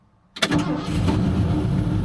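The engine of a 1977 Ford F100 pickup truck cranks briefly, then catches and settles into a loud, steady idle close by.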